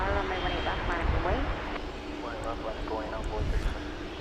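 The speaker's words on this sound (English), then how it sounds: "flight 1797 American Airlines to Las Vegas and Airbus A321 Neo on runway DFW." Low, soft jet rumble from an American Airlines Airbus A321neo on the runway at DFW at night, bound for Las Vegas. It sits quietly beneath a voice speaking over it.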